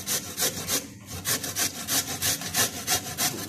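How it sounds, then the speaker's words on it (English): Camote sweet potato grated gently by hand, about a dozen rhythmic rasping strokes close by, evenly spaced with a brief pause near the start, with no voices. "So you have to grate gently."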